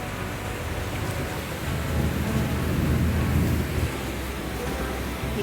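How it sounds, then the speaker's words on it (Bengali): Heavy monsoon rain pours steadily outdoors, a dense continuous roar with a low rumble of thunder swelling in the middle before easing back, no voices. "আমাদের এখানে তুমুল বর্ষণ শুরু হয়ে গেছে"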